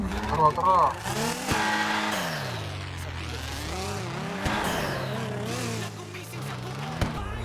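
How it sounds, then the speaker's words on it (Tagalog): A BMW M4 F82 fitted with a V12 engine in GTA 5 revs and surges with rising and falling pitch and some tyre noise, while people talk over it throughout. "Grabe yung makina nito, V12 engine."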